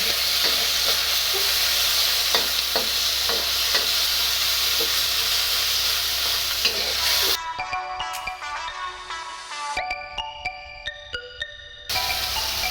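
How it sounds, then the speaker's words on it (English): Beef and tofu stir-fried in a pan give a steady loud sizzle with stirring scrapes for about seven seconds, then the frying hiss drops away while bright ringing tones sound over a quieter background. "Start mixing."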